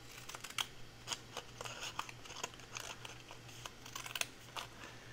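Small scissors snipping paper to make paper clip flags, a series of quick crisp cuts in an irregular rhythm, close and quiet, over a faint steady hum with no talking.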